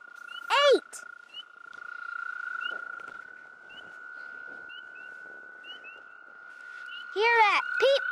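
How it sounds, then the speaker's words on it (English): High, short peeping calls of frogs repeat through the clip, with louder bursts near the start and end over a steady high tone. "that's a frog, we call them peepers"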